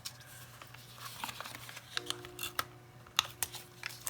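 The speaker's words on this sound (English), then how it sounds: "we're going to bring in our tape runner and just" A handheld tape runner lays a couple of adhesive strips onto the back of a papercraft piece for an altered composition notebook, giving a series of soft, close clicks and ticks over a quiet background.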